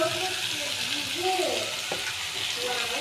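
Ginger, cumin and green chilli paste frying in a pan, a steady close sizzle with a faint scrape of stirring partway through.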